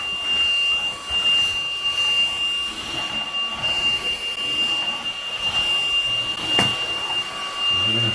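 A Ljuren P11 cordless vacuum cleaner runs steadily at close range, a continuous motor whine with a high tonal hum and airy suction, holding an even level throughout with a brief sharp knock near the end.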